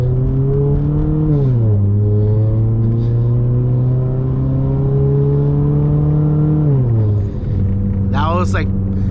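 An automatic Ford Mustang runs under full throttle from inside the cabin. The engine holds a loud, rising drone, then drops in pitch at two gear changes while someone talks over it.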